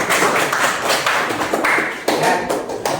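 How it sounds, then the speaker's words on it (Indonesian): Classroom applause from a group of students, a dense burst of claps and taps with a dip near the middle before the clapping swells again, fairly loud and close throughout. "kita akan kasih aplaus"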